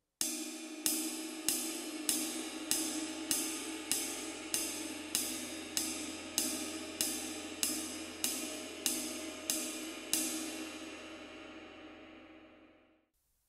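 A jazz ride cymbal struck in steady quarter notes, about fourteen even, ringing strokes with a bright shimmering wash that carries between hits, played alone and fading out at the end.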